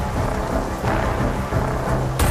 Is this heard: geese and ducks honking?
no